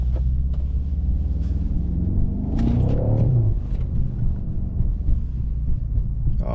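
A BMW's engine growls low and steady while driving through downtown city streets, a continuous rumble swelling briefly near the middle with some wind noise over the microphone.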